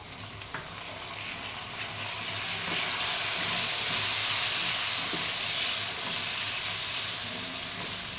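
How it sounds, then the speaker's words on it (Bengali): Potatoes and onion paste fry in a covered pan for a fish-head muri ghonto. A loud, hissing sizzle builds and stays strong and steady, with no talking. "এই আলুটাকে আমি চাপা দিয়ে ভেজে নেব। এর মধ্যে দিয়ে দেবো পেঁয়াজ বাটাটা।"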